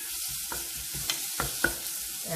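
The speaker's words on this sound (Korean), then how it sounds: "여기다가 우선은 양파와 대파, 향신 채소를 먼저 넣고 볶아주세요" Onion and green onion soft-sautéing in melted butter in a pan for a white potato cream soup, a quiet steady sizzle with a few light stirring scrapes and taps.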